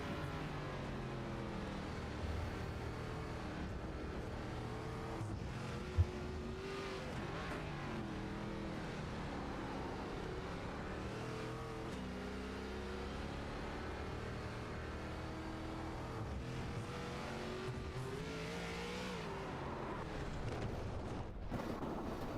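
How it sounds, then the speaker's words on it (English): An ARCA stock car engine drones through a lap of Virginia International Raceway in the iRacing simulator, a steady mid-level roar rising and falling with shifts and corners, continuous for over twenty seconds with no talk over it. "let's ride and see what a lap of VIR looks like in one of these new Arca machines"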